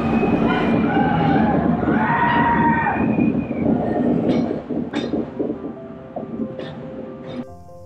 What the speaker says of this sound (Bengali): একবার করে টানেল থেকে বাইরে বেরিয়ে যাচ্ছিল আমাদের ট্রেনটি, আবার অন্য টানেলের মধ্যে প্রবেশ করছিল।